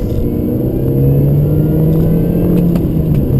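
A loud car engine running steadily with a high supercharger whine over a deep rumble, the pitch climbing slightly as it revs, close by.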